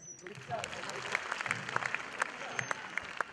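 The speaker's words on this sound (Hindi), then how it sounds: "आपके लिए तालियां" An audience of university students claps for a fellow student during a motivational talk: brisk, crackling applause from a roomful of hands with distinct individual claps, continuing steadily with faint voices mixed underneath.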